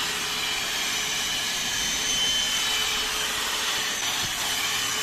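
Bauer cordless vacuum cleaner with its largest attachment fitted and a 3 amp-hour battery, running at a steady, loud, close whine with broad airy hiss throughout, no talking.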